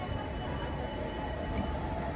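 A railway locomotive creeps forward to couple onto a train at Kolhapur terminal station, giving a steady low rumble with faint metallic hum, fairly quiet and continuous, no voices.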